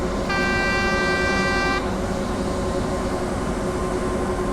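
An ÖBB 1044 electric locomotive horn in Train Simulator 2016 on the Three Country Corner route sounds one steady blast of about a second and a half over a constant cab rumble that continues after it stops.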